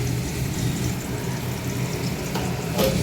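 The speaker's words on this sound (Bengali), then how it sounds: "এই যে এখানে দুটো পটল ভাজছি" Pointed gourd frying in a pan at home, giving a steady close sizzle that runs throughout with a low continuous rumble beneath and a brief brighter crackle near the end; no one talks.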